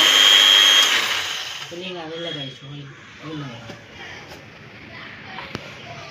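A mixer grinder blends curry leaf juice, its motor whirring loudly for about a second before winding down while voices talk over it.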